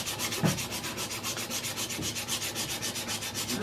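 A hand plane iron is rubbed back and forth on a red sharpening stone to polish out scratches, giving a steady, rhythmic gritty scraping with even strokes, close up and alone.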